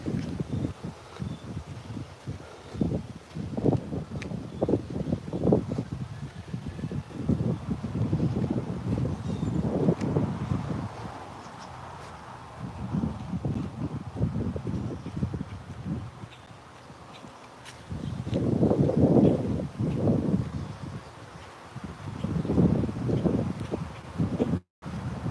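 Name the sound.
wind blowing in the garden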